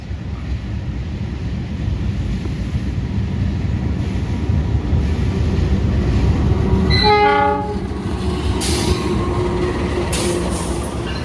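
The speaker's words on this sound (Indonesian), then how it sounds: "ini adalah rangkaian kereta tambahan Gambir Jogja yang akan saya naiki" An Indonesian passenger train on the Gambir–Jogja route rumbles past with a heavy, continuous roar, then a loud horn blast sounds briefly before the rolling noise carries on.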